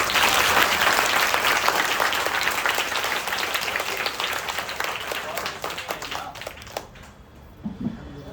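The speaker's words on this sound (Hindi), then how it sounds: "बच्चे है ना, ताली बजाना चाहता है इससे आदत, जोरदार ताली।" Loud, dense clapping from a crowd of schoolchildren at an Independence Day school gathering, sustained for several seconds before thinning out into scattered claps, with voices audible underneath.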